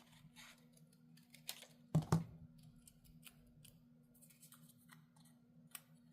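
Scissors snip through a paper card template, producing a couple of quick close cuts amid faint rustling and light ticking in a quiet room.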